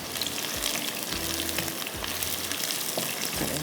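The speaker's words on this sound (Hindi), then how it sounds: "प्याज को करते हैं ब्राउन और निकाल लेंगे" Onions frying until brown in a pan, a steady loud sizzle filling the clip with low thuds of stirring or handling in between, close up and without talk.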